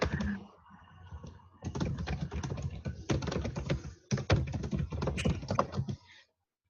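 Bursts of fast typing on a computer keyboard, close and fairly loud, with rapid clustered key clicks broken by short pauses, ending abruptly; no talking.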